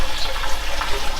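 Water drains out of a washing machine in a loud, steady, close rush that holds without a break.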